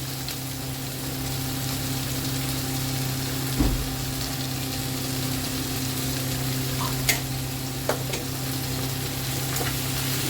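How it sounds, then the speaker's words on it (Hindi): Two medium roughly chopped tomatoes and a pinch of salt fry in a pot as a Mughlai chicken malai handi gravy, giving a steady, close sizzle over a low hum, with a couple of brief clicks from stirring. "अब हम 2 मीडियम साइज़ की टमाटर हम डाल देंगे इसमें, रफली चॉप किया हमने ये भी।"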